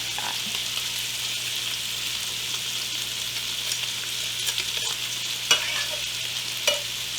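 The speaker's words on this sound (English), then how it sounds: "I'm going to stir this up and let this cook down for a couple of minutes" Garlic, onions and carrots stir-fry in a pan with an even, continuous sizzle and a few soft scraping stirs and pops near the end, close and moderately loud, with a faint low hum beneath.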